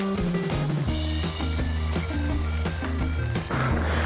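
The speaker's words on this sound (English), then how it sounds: "The last ingredient we're gonna add" Chicken stock is poured into a hot pan with a liquid gush and splashing over background music, steady and fairly close with no voices.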